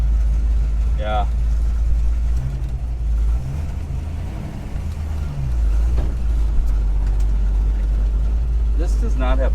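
A Ford Mustang with an R Code engine idles in a steady, low rumble that continues under people talking.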